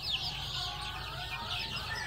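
Farm chickens around 35 days old, kept for vaccination against fowl cholera, cluck and chatter steadily through the whole stretch, moderately close, with no speech over them.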